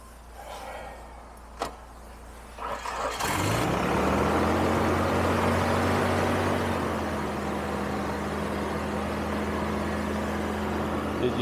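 On a cold day a car engine cranks briefly and catches after a few seconds of quiet, then settles into a loud, steady, close idle that holds to the end.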